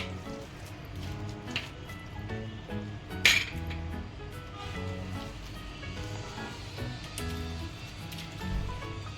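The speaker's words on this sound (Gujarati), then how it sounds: "પહેલાં એક ચમચા વડે આ રીતે મિક્સ કરી નાખવાનું બરાબર" A metal spoon mixing hot mashed filling in a steel pot, with soft scraping and repeated light clinks and one sharp clang near the middle, close by and without speech.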